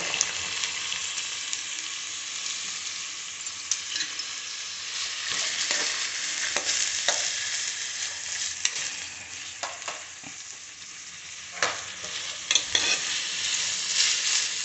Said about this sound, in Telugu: ఇప్పుడు ఆనియన్స్ వేసేద్దామండి.